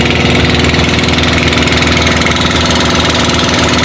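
A motorized bangka boat engine in Siruma, Camarines Sur runs with a loud, steady chugging drone close by, unbroken throughout.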